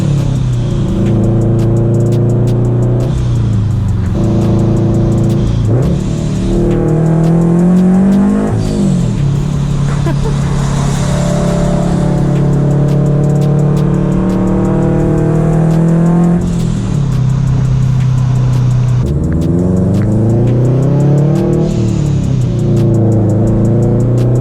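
A supercharged Toyota FRS driving on the road, its engine loud and close from inside the car, rising and falling through repeated accelerations and gear changes, with a long steady cruising stretch in the middle.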